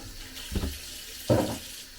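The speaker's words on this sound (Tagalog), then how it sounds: "Hugasan man na natin to." Mackerel is rinsed under a running kitchen tap, with two short splashing gushes of water over a low steady flow, close and moderately quiet.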